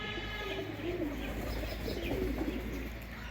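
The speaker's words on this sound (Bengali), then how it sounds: "নাইরা কবুতরগুলো কিন্তু মার্শাল্লাহ অনেক সুন্দর, আর ডাকতেছে কেমন জোড়া আর কি" Naira pigeons, a pair, coo repeatedly in low, rolling calls, with faint chirps and steady background hum, close and fairly quiet.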